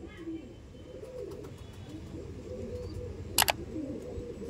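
Chotial Madrasi pigeons coo softly in low repeated murmurs with a quiet background hum, broken briefly by a sharp clicking burst.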